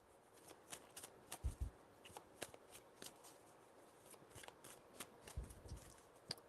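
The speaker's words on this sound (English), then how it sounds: "Four shuffles." Tarot cards being shuffled in quiet, soft close riffles and flicks with a few sharper slaps, repeating at an irregular rhythm with no talking.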